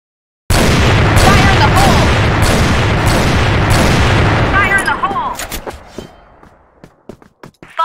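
A grenade blasts in the shooter game Crossfire, a loud sustained roar of booms lasting several seconds that breaks up into scattered sharp pops and fades as gunfire trails off.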